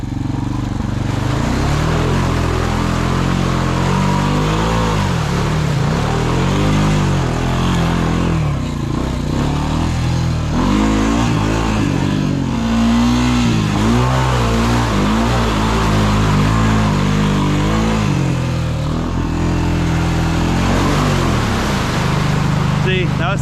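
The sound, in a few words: old Honda four-wheeler engine revving through mud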